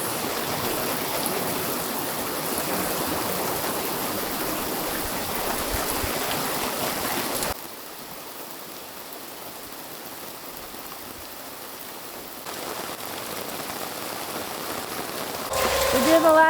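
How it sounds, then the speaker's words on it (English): Rain falling outdoors at a muddy off-grid building site, a steady hiss of drops that drops sharply in level about halfway through, then swells again, with no talk over it. "Started to rain, guys."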